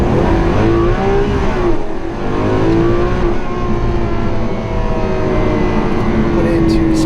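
A Lamborghini Aventador SV accelerating on a road, its engine note rising steadily and loud throughout, a dense continuous roar with wind noise close to the microphone.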